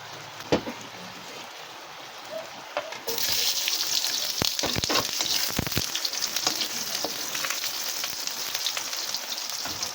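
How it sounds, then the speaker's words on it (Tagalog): Onions frying in oil in a pan, starting as a quiet sizzle with a few pops, then jumping to a loud, dense crackling sizzle that continues steadily. "iprito muna natin yung ating sibuyas"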